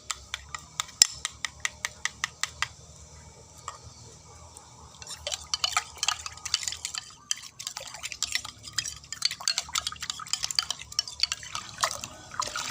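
Beaten egg is poured into ten litres of water, giving a run of quick drips and splashes followed by a busier, irregular trickle and spatter, close by and fairly soft.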